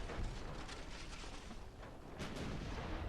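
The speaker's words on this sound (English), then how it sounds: "Torpedo hit." A torpedo strikes a warship in the naval strategy game Ultimate Admiral: Dreadnoughts, giving a loud, dense, rumbling blast that runs throughout, with a second heavy burst near the end and no talking.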